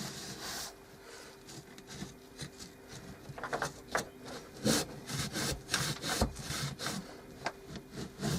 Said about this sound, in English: let's take a bit of old rag and wipe off the excess